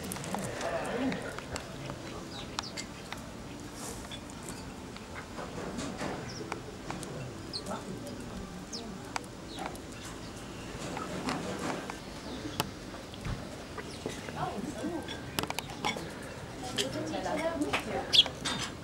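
Birds crowding in to be fed at Wannsee lake in Berlin, scattered chirps, flutters and splashy movements near the listener, while people talk throughout.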